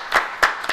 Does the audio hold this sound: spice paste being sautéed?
no